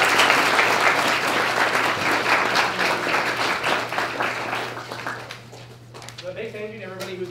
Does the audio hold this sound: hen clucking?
no